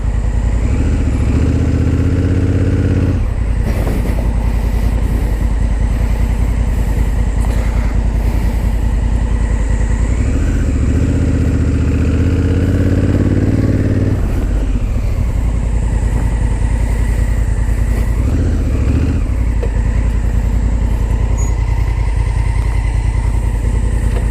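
A Honda Africa Twin motorcycle engine drones loud and continuous throughout the ride, with a low rumbling tone that shifts and surges slightly as the rider moves along a rough track near a waterhole.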